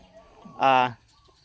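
A Thai green-legged (Sang Khiao) rooster gives a single short, loud crowing or clucking call, close by, over quiet background with faint voices nearby.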